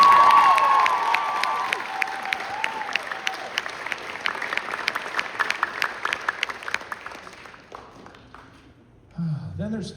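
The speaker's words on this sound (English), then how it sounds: "So can we give her a round of applause?" A classroom gives a round of applause, dense clapping with a few cheers running steadily for about eight seconds before it fades and a voice begins.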